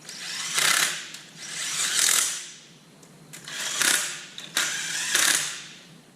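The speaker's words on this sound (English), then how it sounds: "go ahead and tighten them all down." Ratchet wrench tightening bracket bolts on a power steering pump and alternator bracket during an old Mercedes OM617 diesel engine conversion, heard as four bursts of rapid clicking, close and fairly loud, with no talking.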